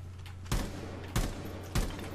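Three evenly spaced gunshot bursts from a weapon on burst fire in Rainbow Six Siege during a Terrorist Hunt match, each a sharp loud crack about half a second apart over a steady low hum.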